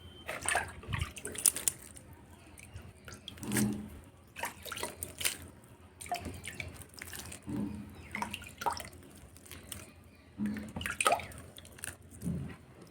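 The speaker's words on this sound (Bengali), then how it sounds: "এইভাবে জল দিয়ে এবারে কিন্তু আমি এটা ছাওয়া জায়গায় রেখে দেবো" Petunia seedlings being watered by hand, producing soft, close splashes, drips and wet squishes that come in irregular clusters with brief pauses, fairly quiet, with no talking.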